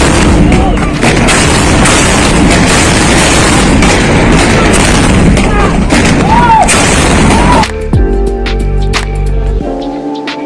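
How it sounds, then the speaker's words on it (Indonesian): Homemade cannons fire blank shots to celebrate Lebaran by a river, booming loud and dense in close succession for most of the stretch before cutting to quieter ambient sound. "Setidaknya ada 7 kali suara tembakan meriam buatan itu."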